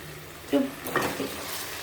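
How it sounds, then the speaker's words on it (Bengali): Chicken with fried onion and ginger garlic paste frying in a pan, a soft continuous sizzle broken by a few utensil scrapes and stirring clatters, close and moderately quiet, without speech. "আর এটা একটু ভালো করে আরেকটু ফ্রাই করে নেব।"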